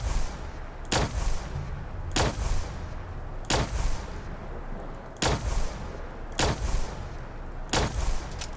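Gunfire in Fallout 4 comes as six single loud shots, each followed by a short echoing tail, spaced about a second and a half apart at a steady measured pace, with no voices.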